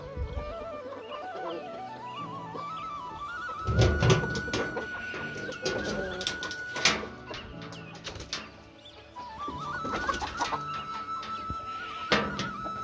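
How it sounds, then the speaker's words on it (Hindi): Desi chickens and Aseel roosters cluck and call around a rural pen, with a rooster's drawn-out crowing line and scattered wing flaps over a busy farmyard background. "ये जनाब सारे देसी मुर्गे"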